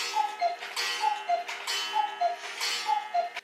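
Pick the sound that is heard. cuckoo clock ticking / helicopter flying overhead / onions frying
cuckoo clock ticking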